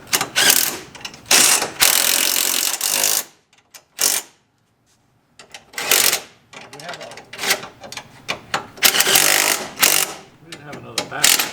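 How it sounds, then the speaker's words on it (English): A 9/16 wrench ratcheting on a nut during transmission work, giving loud, close bursts of fast clicking that start and stop in short runs, separated by brief silences, with some workshop noise between them. "Got a wrench, 9/16 wrench."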